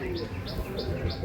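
A domestic pigeon coos close by in a quick, evenly spaced series of soft calls over a low background hum, with a faint voice in the background.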